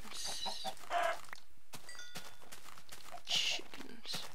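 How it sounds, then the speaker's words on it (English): Chickens clucking in the video game Minecraft, a few short faint clucks and squawks scattered over a quiet background. "Ooh, chickens."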